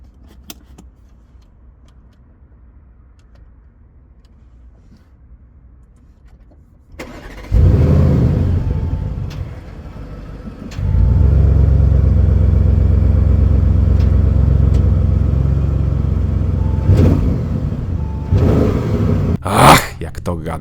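Audi RS7 Sportback Performance 4.0 V8 starts up after a quiet stretch with a loud burst, settles into a steady deep idle, then rises briefly into a sharp rev near the end.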